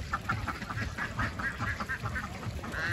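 Laying ducks at a small duck farm in Bhugroil, Rajshahi, quack in a dense, continuous flock chorus close by, with overlapping calls and no voices.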